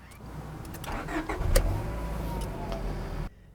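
A 1999 Honda Prelude engine cranks and starts, revving briefly then settling into a steady idle before cutting off abruptly near the end.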